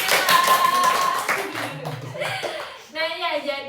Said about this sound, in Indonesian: Tepuk tangan untuk Meta